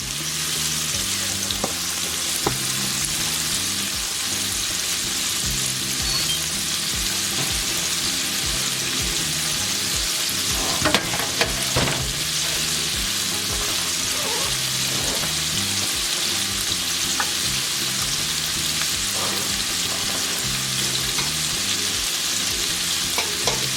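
Seafood and fries sizzle loudly in a pan, a dense continuous frying hiss with occasional stirring clinks and scrapes, no one talking.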